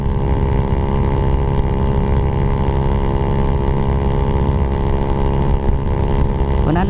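A motorcycle fitted with a Taikom power pipe exhaust and no silencer, running loud and steady nearby as a rough, throaty drone that holds for the whole stretch, with a brief rise near the end.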